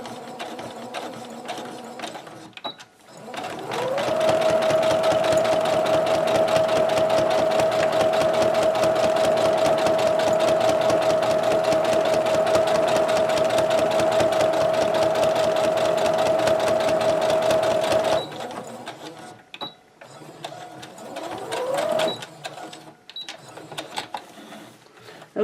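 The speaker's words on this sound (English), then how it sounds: "Here I will back stitch." A sewing machine runs loud and close in one long steady burst while back stitching a rag quilt, holding a constant whirring hum, with short stops and handling clicks before and after.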